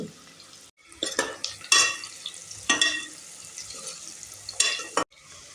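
Cumin, sliced onion and turmeric frying in hot oil in a pan while tomato rice is cooked, a soft sizzle broken by several short bursts of stirring and a spoon scraping against the pan.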